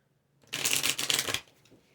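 A deck of Kali oracle cards shuffled once, a single close, crisp riffle lasting under a second with quiet before and after.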